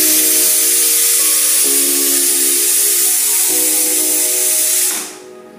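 Pressure cooker on a stove cooking kulthi dal, hissing loudly with a piercing whistle and escaping steam that holds steady for several seconds before abruptly dying away.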